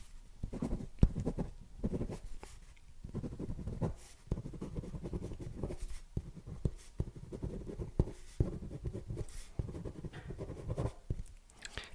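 A pen scratches across paper in continuous uneven strokes, close and fairly loud, with small taps and clicks scattered throughout and no speech.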